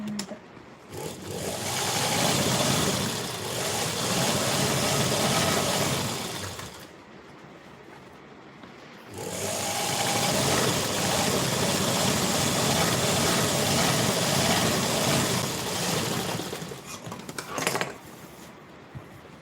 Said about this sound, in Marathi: आता मी परत एक शिलाई याच्यावरती मारून घेते आणि फिटिंगची शिलाई मग मारूया